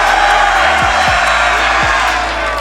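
An esports arena crowd at the Atlanta Major Grand Final roars and cheers in a loud, sustained wall of sound, with a few low thuds underneath.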